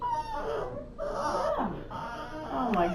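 A tired puppy whines and whimpers in drawn-out, wavering, moaning cries, close and fairly loud, continuing almost without pause.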